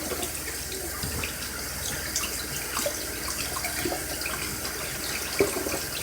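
A tap runs steadily into a kitchen sink during dishwashing, a constant close splashing hiss with small clinks, and no voices.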